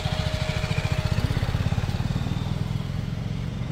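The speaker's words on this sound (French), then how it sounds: "Donc la moto, elle patine, patine, patine." A motorcycle engine runs with a slipping clutch during a riding lesson, a close, fast, even thumping putter that holds steady for a few seconds with no talk over it.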